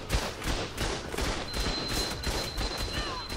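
Rapid gunfire in the video game Ark: Survival Evolved, a dense continuous stream of loud shots close up, with faint voices behind it.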